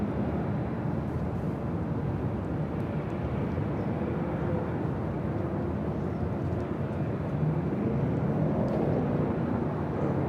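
A Lufthansa Boeing 747 jet airliner at LAX, a loud, steady broadband roar of jet engines that holds constant for about ten seconds, with no voices.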